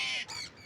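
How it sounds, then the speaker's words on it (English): Small birds squawk in a short, dense burst as they take off from a perch on an early morning, loud at first and then quickly dropping to a thinner chatter. "A lot of birds, huh?"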